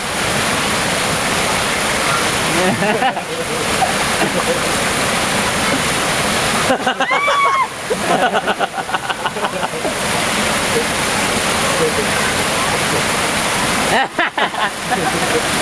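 A waterfall at Strella Falls rushes in a steady, loud broadband roar, with voices talking intermittently over the churning water.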